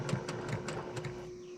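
Sewing machine stitching in short bursts while making a fabric bowl cozy, a steady mechanical whir with rhythmic pulses, close and fairly loud, no voices.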